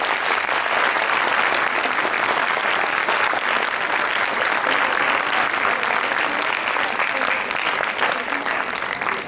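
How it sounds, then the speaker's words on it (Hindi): Loud, sustained audience applause welcoming the chairperson at a gathering celebrating Bhagwan Dev Atma's 169th birthday, a thick continuous clapping that fills the whole stretch evenly. "एक बार तालियां जोर से बजा दीजिए"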